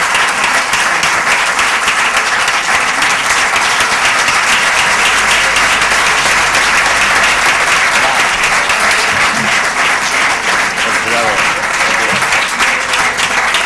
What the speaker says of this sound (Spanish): recibamos, señoras y señores, con un fuerte aplauso al actor y premio Archidona Cinema 2013, Antonio Lechen.